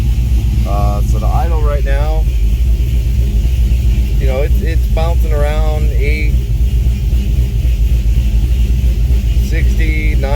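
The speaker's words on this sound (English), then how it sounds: "I wanted to get it to the point where it would idle, and now I got it to idle" A swapped-in Trailblazer SS engine idles with a steady, loud low rumble throughout, while someone talks over it.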